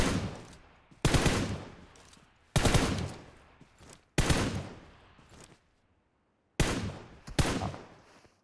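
Gunfire in PUBG Mobile aimed at the player: several sharp bursts of rapid shots, loud and close, separated by short pauses and fading tails, with no talking.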